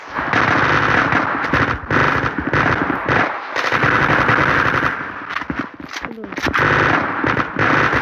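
Rapid automatic gunfire in the online shooter Zula, dense loud bursts with short gaps, while a player talks over the shooting.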